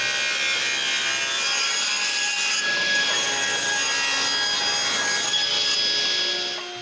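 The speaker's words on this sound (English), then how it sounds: "Now I need to drill the holes for those dowels." Steady, loud drilling of dowel holes into wood, a continuous high whirring grind with rasping texture that holds for several seconds before easing off at the end.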